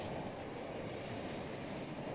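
An Osprey tiltrotor aircraft in flight in Battlefield 2042, heard as a steady, dense engine and rotor roar that stays constant throughout without any speech.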